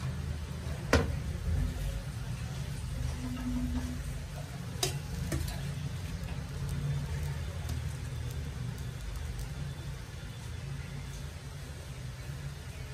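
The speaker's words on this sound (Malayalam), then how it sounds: "തേങ്ങ മൂക്കുന്ന സമയം കൊണ്ട് നമുക്ക് വെണ്ടയ്ക്കയും ഉള്ളിയും മൂപ്പിച്ചെടുക്കാം" Okra and onions sauté in coconut oil in a pan, a steady soft sizzle and crackle running throughout with a few sharp clicks of a spoon or pan, close and alone without voices.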